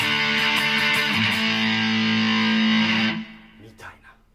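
An electric guitar with a Fernandes humbucker pickup plays a dense, distorted chord that sustains loudly for about three seconds, then cuts off into fading noise.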